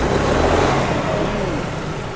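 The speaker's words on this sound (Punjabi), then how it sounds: "ਹੁਣ ਰੇਸ ਜੀ ਵੀ ਦੇ ਦੇ ਰਿਹਾ ਇੱਥੇ ਜੀ" Tractor engine revved in neutral, a 2021-model tractor with about 1450 hours of running, at a rural tractor fair; steady loud mid-range engine roar rising slightly and holding throughout, close by, with no talk.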